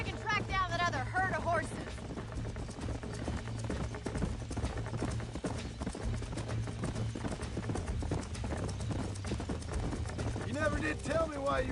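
Horse hooves clip-clop steadily at a run in the Red Dead Redemption video game, a continuous rhythmic clatter with a herd nearby, under a low engine-like drone and brief voices or whinnies at the start and end.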